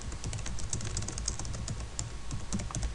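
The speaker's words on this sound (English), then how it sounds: "here in the message box, you'll type your response to the prompt." Steady, rapid typing on a computer keyboard fills the whole stretch, with dense, close key clicks carrying on without pause or voices as a response is typed into an online message box.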